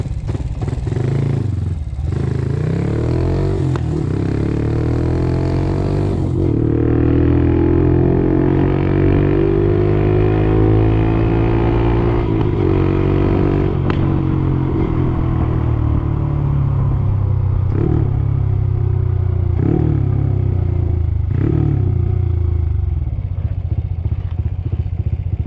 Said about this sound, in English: Just listen to the bike. Sounds like my old hot rod Chevy Nova.